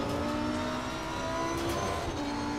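Lamborghini race car in Assetto Corsa Competizione at Misano running close alongside, a steady loud engine drone with layered harmonic tones holding throughout, no voices.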